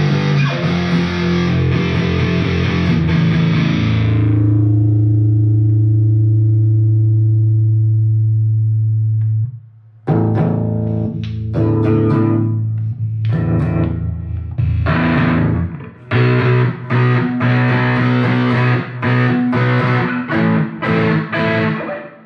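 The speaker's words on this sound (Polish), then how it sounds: "tylko dźwięk tego wzmacniacza póki co" An electric guitar plays through a Vox Adio Air GT amplifier, starting with a long ringing chord and then moving into choppy, distorted strummed phrases with short pauses.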